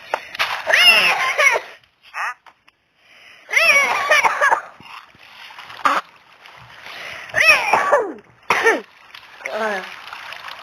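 A person coughs hard several times, close to the microphone, in separate harsh bursts with short quiet gaps between them.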